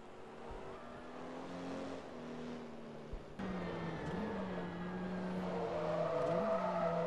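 A Mazda RX-7 race car on track, its engine droning steadily through a turn with shifting pitch and a sudden jump in loudness partway through, building as it gets nearer.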